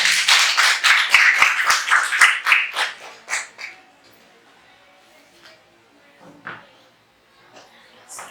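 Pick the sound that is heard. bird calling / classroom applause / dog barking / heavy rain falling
classroom applause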